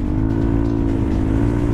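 A 2020 Yamaha NMAX scooter engine runs steadily, a loud, close, even drone with a constant hum and no breaks.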